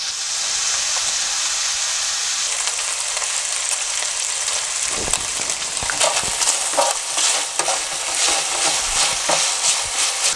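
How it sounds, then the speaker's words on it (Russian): Pork sizzles and spits in oil in a deep pan for homemade wok noodles, a steady close frying hiss that grows busier with crackling pops and stirring scrapes midway. "Закинули свинину, добавляем маслица немножко."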